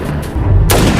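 A sharp gunshot rings out in a tense gangster film scene, a single loud broadband blast about two-thirds of the way in, following a rumbling low background.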